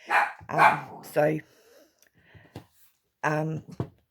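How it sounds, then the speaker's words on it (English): A dog barks several times close by, sharp yelps in a quick cluster, then a pause before two more barks. "Excuse my dog for barking."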